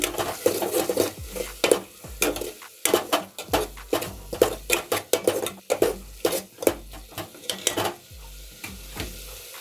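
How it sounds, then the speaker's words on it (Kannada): Fried radish is stirred in a pan in a series of loud, close scraping and clattering strokes over a low sizzle, the rhythm uneven and repeated throughout. "ನಾವೇನು ಸಪ್ರೇಟಾಗಿ ಮೂಲಂಗಿನ ಫ್ರೈ ಮಾಡಿ ಇಟ್ಕೊಂಡಿದ್ವಲ್ಲ ಅದನ್ನು ಇದಕ್ಕೆ ಸೇರಿಸ್ಬೇಕು ಅದನ್ನು ಇದಕ್ಕೆ ಸೇರಿಸ್ಬಿಟ್ಟು ನೀಟಾಗಿ ಒಂದ್ಸರಿ ಕಲಸಿ"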